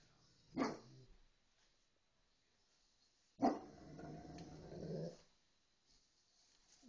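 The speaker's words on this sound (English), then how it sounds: "Big bad dog outside." A big dog barks and growls outside in two separate bursts, the second a longer, rougher growling bark, with quiet gaps between them and no talking.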